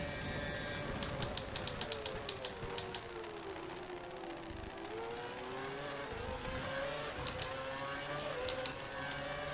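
A race car in a racing video game on the China circuit drones steadily. Its engine pitch dips and then climbs again as the car brakes and accelerates, with sharp ticking clicks layered on top and no talking.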